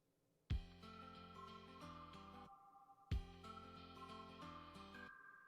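Phone ringtone plays two identical melodic phrases, each opening with a sharp tonal strike and bright bell-like notes, fairly loud and close with no talking over it.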